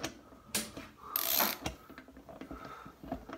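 Ratchet wrench working loose the final cylinder head bolt on a Dodge Demon engine, heard as a few sharp mechanical clicks and a longer grinding ratchet burst near the middle, fairly close in a quiet workshop.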